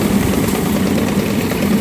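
A fanning mill cleaning seed oats runs continuously, a dense low mechanical drone with a broad windy rush of air over it, steady and close throughout with no pauses.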